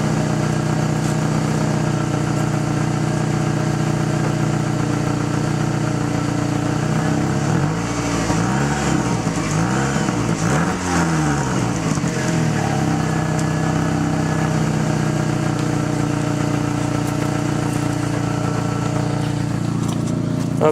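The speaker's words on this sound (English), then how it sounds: "So let's see what the exhaust sounds like." Engine and exhaust of a 2000 Plymouth Neon running steadily at close range, a continuous drone with a brief rise in revs midway before settling back to idle, with no talking.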